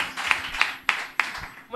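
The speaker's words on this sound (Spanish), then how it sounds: "un aplauso" A short burst of hand clapping on a Spanish entertainment show, four crisp claps in a steady, evenly spaced rhythm, close and fairly loud, with faint voices in the background.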